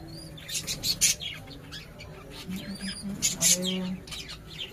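A baby pigeon chick being hand fed gives short high chirps and squeaks in irregular bursts, close up, with a soft low murmur underneath.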